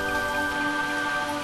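Sudden passing rain shower in the video game Boku no Natsuyasumi, a steady, dense hiss of rainfall with a faint tonal hum beneath, continuous and even throughout.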